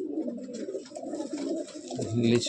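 Andhra pigeons in a loft coo in repeated low, throaty rolls, close and overlapping, with a faint voice mixed in toward the end.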